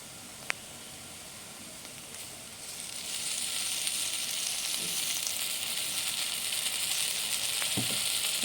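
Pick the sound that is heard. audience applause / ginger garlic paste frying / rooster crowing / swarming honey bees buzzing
ginger garlic paste frying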